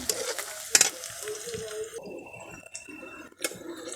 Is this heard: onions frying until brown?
yes